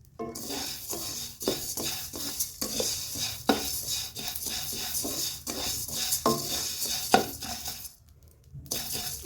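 Whole spices such as cumin, mustard seed and coriander roast dry in a hot kadhai for red chilli pickle, stirred with repeated scraping strokes and a light crackling sizzle, close and steady, no speech.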